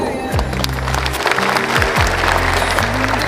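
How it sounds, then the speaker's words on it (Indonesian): Sustained audience applause at a school ceremony, loud and steady clapping continuing throughout with tonal music or a keyboard line running underneath. "Tepuk tangan ucapan terima kasih pada Kasitu"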